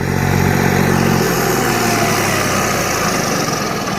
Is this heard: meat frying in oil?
no